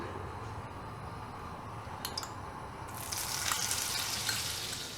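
Leftover oil and 10 grams of butter sizzling in a pan for paneer do pyaza, a soft, steady crackle that grows brighter and louder midway, with no talk.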